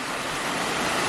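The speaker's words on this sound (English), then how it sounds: "That's a beautiful creek." Grizzly Creek, a clean mountain creek in Glenwood Canyon, rushing as a loud, steady broadband roar close by, with no voices, cutting off abruptly after about a second.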